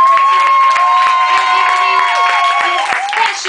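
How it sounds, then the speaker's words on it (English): Crowd at a stand-up comedy show cheering, with loud whoops, shouts and some clapping, plus a sustained whistle running across the start. "Clap it up for Aaron Edwards."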